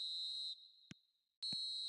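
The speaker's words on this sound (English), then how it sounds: "there goes the final whistle" A referee's final whistle in a football video game: a loud shrill tone cutting off abruptly, a short gap with two faint thuds, then the piercing whistle returning and holding, close and alone.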